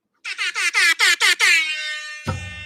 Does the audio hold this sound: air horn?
yes